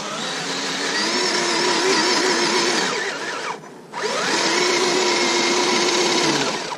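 An RC scale truck on large scale crawler tyres grinds over rough terrain, its electric motor whining loud and steady, dipping briefly as the tyres struggle for grip before surging again.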